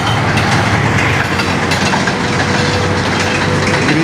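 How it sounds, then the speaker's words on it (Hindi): The Green Line Express passenger train rolls past nearby, with loud continuous wheel rumble and rattling carriage noise and no voices. "green line express"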